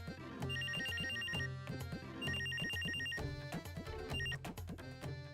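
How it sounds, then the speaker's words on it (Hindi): A mobile phone ringtone plays loudly and continuously, a repeating melodic electronic tune with a bright beeping motif recurring in phrases, close by with no voices. "एक तो ये मोबाइल फोन जो है इन्होंने खाम खाम में तंग किया हुआ है।"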